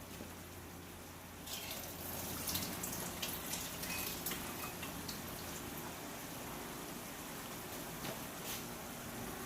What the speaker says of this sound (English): So now we're going to go ahead and drain the water.